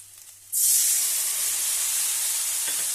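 Water used to rinse spices hits a hot pan with a sudden loud hiss that bursts in after a short quiet moment. It then keeps sizzling steadily and fades only slightly, with no voices.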